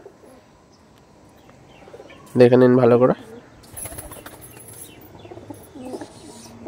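Restless Andhra Lalshira pigeons with ringed feet coo and stir, one loud call standing out before softer coos and fluttering, while someone talks over them.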